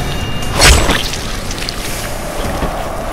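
An enemy's tank explodes in the Dying Light video game with a single loud, deep boom that quickly fades into a low rumbling wash.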